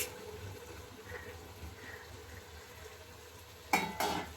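Carrots, beans and potatoes stir-fry with tomatoes for a vegetable biryani, giving a low, faint sizzle under occasional soft stirring. Two louder clinks of a utensil against the pan come near the end.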